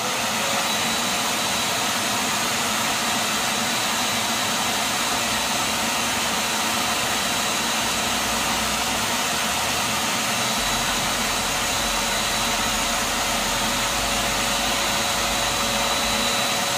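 Big shop vac running for dust collection on a Bosch GCM12SD-15 miter saw, a loud, steady, close motor whine that holds constant throughout with no talking.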